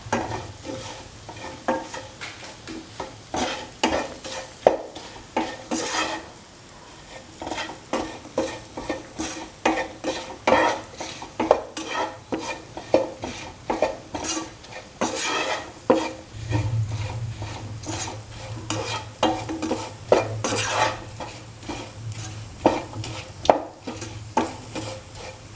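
A spoon scrapes and stirs food seasoned with chili powder and salt in a sizzling pan, with repeated rhythmic strokes over a continuous frying hiss and occasional knocks against the pan.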